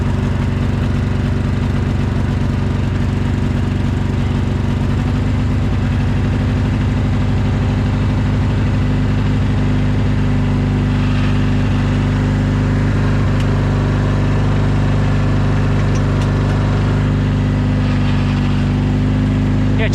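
A car engine runs loud and steady throughout, a constant low idling rumble with slight variations as the choke and throttle are worked.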